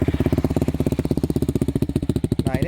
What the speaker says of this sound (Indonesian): Oke, kita coba nyalakan motornya menggunakan DB killer ini ya.